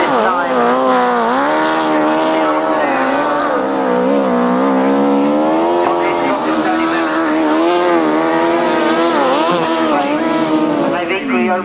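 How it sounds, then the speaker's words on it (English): 1000cc grasstrack sidecar racers come round a bend at a race meeting, their engines howling and rising and falling in pitch, loud and continuous under a commentator's running talk. "They come round off that bottom bend into the last lap this time."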